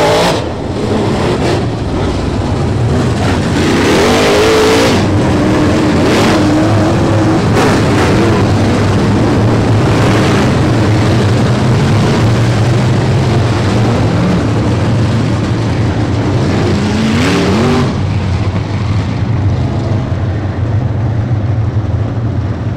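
UMP modified race cars on a wave lap at Brownstown Speedway, a loud continuous engine roar from the pack rumbling past, with revving swells rising and falling, mostly free of talk.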